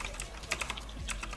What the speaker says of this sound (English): No, you should do keyboard ASMR.